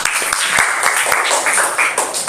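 A group of children in a classroom lesson clapping their hands together, a dense, loud burst of applause with sharp individual claps throughout, lasting a couple of seconds.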